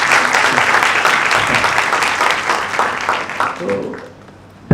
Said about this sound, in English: Can we have a huge round of applause for that?